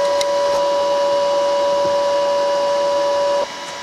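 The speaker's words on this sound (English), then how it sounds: "I'll turn it up a little bit and we'll try welding the other side." An R-Tech MIG180 with spool gun MIG welds aluminium, giving a steady close hiss and buzz with a strong constant tonal hum that drops off abruptly near the end as the arc stops.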